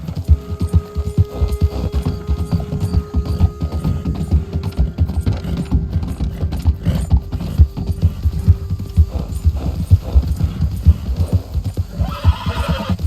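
Horse hooves clip-clop in a steady, continuous rhythm while riding cross-country in Red Dead Redemption 2, close and clear, with occasional whinnies and a low ambient hum underneath.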